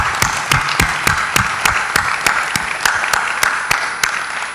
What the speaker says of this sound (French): on va applaudir très chaleureusement tous ceux qui ont participé